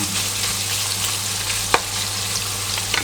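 Large chunks of pork belly stir-fried in a pan for a Thai basil dish, a constant loud sizzle with a few sharp clicks of the stirring utensil, no voices.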